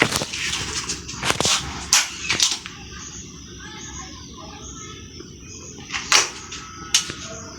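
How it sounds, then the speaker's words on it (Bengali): An air gun fires at plate targets set up 50 metres away on an outdoor range, several sharp cracks spaced apart, some with short faint impacts, with quiet background between shots. "এই হচ্ছে গান, প্রথম শুট দেখি।"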